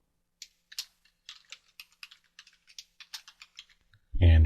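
Keys on a computer keyboard tap in a quick irregular run of light clicks, close and fairly quiet, ending in a short burst of louder noise.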